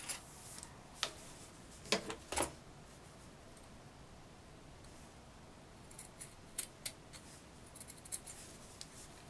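Fabric being cut with scissors while sewing a small quilted zip pouch, quiet close-up snips in short clusters with pauses between, faint and without speech.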